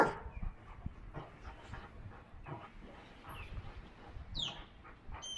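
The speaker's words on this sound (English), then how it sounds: "Is that a new puppy, Boo Boo?" A puppy pants in short, quick breathy bursts, close and fairly quiet, with a few faint squeaks and rustles around it and no talking.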